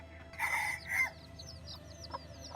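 Chickens on a Thai farm raising chicks and breeding hens give a couple of loud clucks up close, followed by softer scattered peeps and chirps from young birds in the background.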